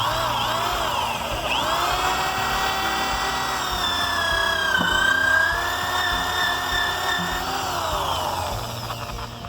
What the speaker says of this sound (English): we can drill our pilot holes for the bolts